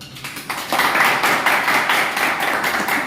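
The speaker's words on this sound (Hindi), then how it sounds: "उनके लिए भी ताली मारी" An audience claps for a director at a gathering, dense clapping swelling in after a brief pause and continuing steadily, loud and near.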